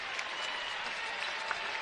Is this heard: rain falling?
no